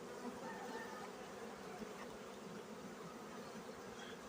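Honeybees on a hive frame in spring, bringing in pollen, a dense continuous buzzing hum of many bees, steady and close but low in level.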